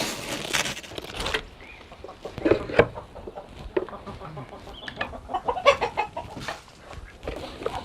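Chickens and a rooster cluck and call around a farm property, with a steady busy layer of overlapping clucks and occasional louder close calls, a bit of patter and no talking.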